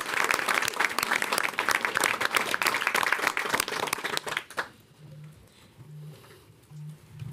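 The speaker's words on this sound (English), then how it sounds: "give your neighbor a round of applause" A room full of people applauding one another at a mayoral healthcare event, loud dense clapping for about four and a half seconds that cuts off abruptly, leaving a quiet room with faint low tones.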